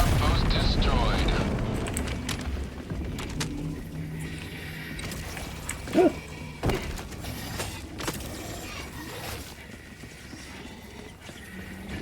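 Outpost exploding in the game Helldivers, a heavy rumbling blast fading out, then sharp booming thuds around the middle before the scene quiets, with a voice speaking over it.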